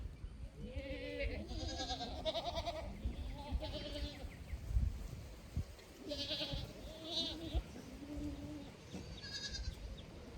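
A herd of goats bleats repeatedly in a paddock, overlapping calls coming in bursts at moderate distance over a soft outdoor background.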